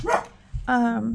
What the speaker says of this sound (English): sorry about the woofing dog.